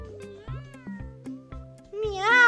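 A kitten meowing in a children's park video game while it drinks milk: a run of short, tonal cartoonish meows in quick succession, ending in a longer, higher rising meow, with no other sound around it.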